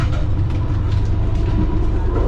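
Interior of a moving low-class passenger train in Vietnam: a steady, loud, broadband rumble with low mechanical droning and rattling throughout, no talking.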